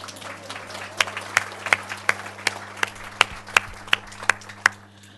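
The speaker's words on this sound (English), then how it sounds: "Applause." Scattered applause from a conference audience at a youth disability conference opening address, a dozen or so distinct claps ringing out in a loose, sparse rhythm over a steady low hum, moderately loud.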